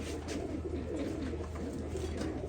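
Blue-tailed nil dumba pigeons coo in a low, steady murmur, close by and continuous, with no talk over it.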